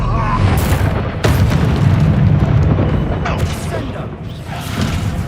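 Stupefy spell cast in a Hogwarts Legacy video game battle, heavy booming impacts and bursts amid combat noise, loud and dense, with game voices speaking.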